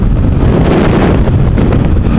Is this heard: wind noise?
yes